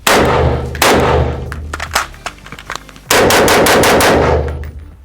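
A CZ Bren 2 rifle chambered in 7.62x39 fires sharp, loud bursts of automatic fire, with two long volleys framing a choppier stretch of scattered shots in between, and no voices.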